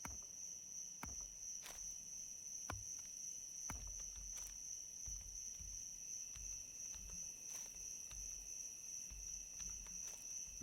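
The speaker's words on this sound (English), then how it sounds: "Nothing like chopping trees to the sound of the cicadas." Cicadas in the survival game Escape the Pacific make a steady, high-pitched drone throughout, with soft irregular thumps and taps beneath and no talk.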